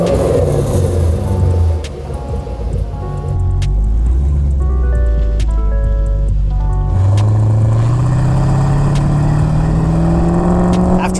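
A 1974 Corvette Stingray C3 with an LS engine swap, running a 2.5-inch mandrel-bent stainless dual exhaust with an X-pipe and straight-through mufflers, revs loudly and close by. Its engine note rises and falls, and a voice talks partway through.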